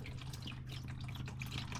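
Manual transmission fluid from a Honda Civic Sport 2.0 draining and splashing steadily into a pan, a quiet continuous liquid patter with small drips, no voices.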